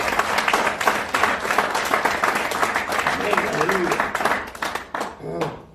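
Loud congregation clapping in a church service, brisk and dense hand claps throughout with some voices mixed in, thinning out near the end.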